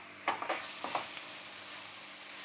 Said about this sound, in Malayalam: ഇതും കൂടെ ചേർത്ത് നന്നായിട്ടങ്ങ് വഴറ്റിയെടുക്കാം.